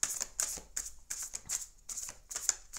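Oracle cards, an 11-11 divinatory art deck, are shuffled and drawn by hand, giving a close run of crisp, papery flicks and slides in quick irregular bursts with no talk.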